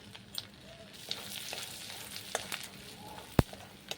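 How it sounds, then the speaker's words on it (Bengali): A spoon of whole cumin seeds fries in hot oil left over from cooking prawns, giving a faint, steady sizzle with a few sharp utensil clicks and no voices. "ওই তেলের মধ্যে দিয়ে দিচ্ছি আমি 1 চামচ গোটা জিরে"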